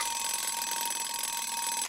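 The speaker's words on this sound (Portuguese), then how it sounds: "Oh, meu alarme tocou." An alarm clock in an animated children's cartoon rings loudly and continuously for about two seconds, then cuts off abruptly, with no voices over it.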